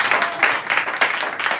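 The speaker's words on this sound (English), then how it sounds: "you people can clap louder than that" Audience clapping at a folk music performance in a warehouse venue, a steady patter of many hands building in short waves, close and fairly loud, with some voices mixed in.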